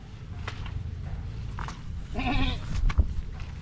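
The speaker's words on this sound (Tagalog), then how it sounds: "Shout out sa mga kambing." Goats graze on grass in a field, with one clear bleat rising above a steady low rumble of wind and movement, plus a few soft rustles and a brief thump.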